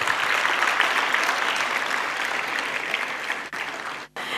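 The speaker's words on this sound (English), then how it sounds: "Can you give a huge round of applause?" Sustained applause from a college day audience at Jyoti Nivas Pre-University College in Bangalore, a loud dense wash of clapping from many hands that cuts off abruptly near the end.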